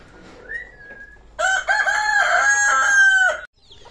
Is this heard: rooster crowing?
yes